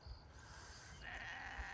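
Sheep bleat on a regenerative farm, a drawn-out wavering call rising out of faint outdoor background noise, moderately distant with no talk.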